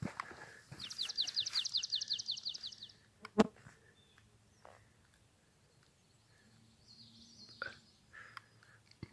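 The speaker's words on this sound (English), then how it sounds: "Beautiful birds here, guys." Wild birds call in a New York wilderness area with beaver sign nearby: a rapid chirping trill first, then scattered fainter calls over a quiet outdoor background, with one sharp knock in between.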